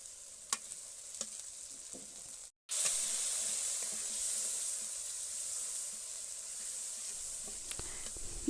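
Spice pastes of chili and garam masala sizzle loudly as they hit beef tripe in a hot pan, a steady bright frying hiss after a few faint stirring clicks, with no talking.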